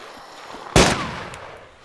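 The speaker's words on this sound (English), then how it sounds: "That was me shooting." A single loud gunshot in the video game DayZ cracks out near the middle, its echo tailing off over the next second against a faint background.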